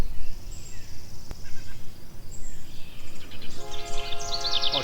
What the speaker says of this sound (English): Oh, geez, kid. That's the train.